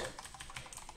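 Quick, light clicking of keys on a computer keyboard while code is entered, a brief close burst of irregular taps at low volume.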